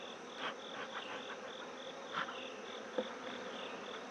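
Honeybees buzz in an open hive, a continuous close, moderately quiet drone with a few brief sharper passes and no talking.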